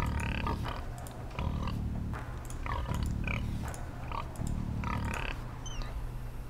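Pigs grunt and oink in Age of Empires II, several short grunting bursts repeating over a steady game background with some bird-like chirps.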